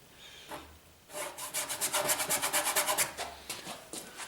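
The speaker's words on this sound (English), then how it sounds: "So you hear a lot of scraping noise." A paintbrush scrapes on canvas in a rhythmic, gritty sound, repeating in quick strokes, close up, building into a steady back-and-forth rasp before trailing off into a few scattered scrapes.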